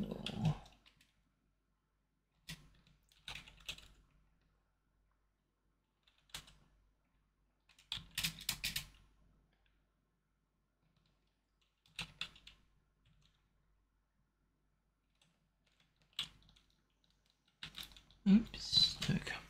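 Computer keyboard typing in short scattered bursts at a home desk with a cat nearby, soft close clicking separated by pauses, with faint room sounds between.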